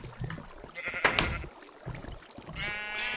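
Minecraft sheep bleat several times, with a couple of short bleats near the start and a longer wavering bleat at the end, fairly close, over faint background clicks and no speech.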